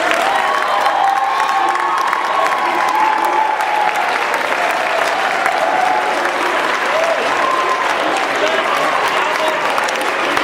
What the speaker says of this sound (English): So could all of those parents and coaches stand up and let's give them a round of applause.